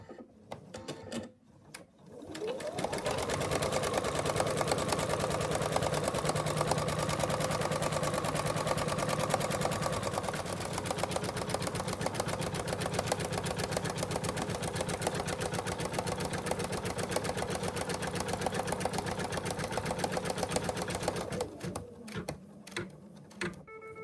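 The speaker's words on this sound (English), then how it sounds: "now I'm going to take it back to the machine and it's going to stitch around there" An embroidery machine stitches around an in-the-hoop wallet with a steady, loud, continuous mechanical whir and rapid needle chatter, running nearly unbroken for about twenty seconds before stopping.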